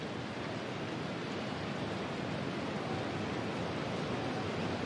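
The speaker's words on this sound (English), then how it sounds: "Absolute torrential rain inside the Allianz Arena." Torrential rain pours steadily over the Allianz Arena football stadium during a match, a dense, unbroken roar of hiss with no pauses.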